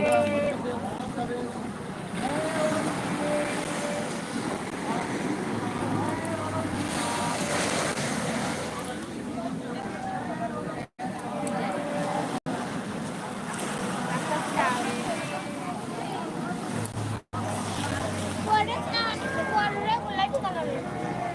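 Steady wash of sea waves and wind at night on the beach at Digha, with voices and chatter mixed throughout and a few brief dropouts.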